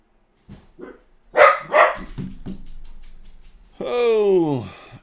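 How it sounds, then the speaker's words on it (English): A dog barks nearby in a quick burst of several loud barks, then a whining, wavering yelp near the end, with someone talking in between. "Oh, Maxi barking over here."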